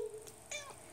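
A house cat gives a couple of short, soft meows in a quiet indoor room, with faint room noise around the calls.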